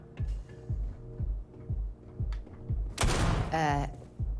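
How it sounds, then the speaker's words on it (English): A gunshot in a science-fiction audio drama: one loud, sharp blast cuts over a steady thudding beat, followed by a brief whining tone. "Are you shooting at flies now?"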